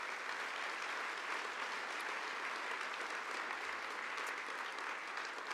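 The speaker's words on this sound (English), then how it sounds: "give him one of many rounds of applause we'll give him tonight for his accomplishments" Steady, dense applause from a large audience at a space awards gala honoring contributors to the space program, sustained evenly throughout with no voices breaking through.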